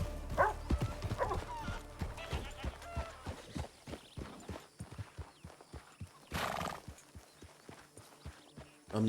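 Horse hooves clip-clopping while riding in Red Dead roleplay, a steady close rhythm of hoofbeats with a snort or whinny and a brief rushing burst partway through.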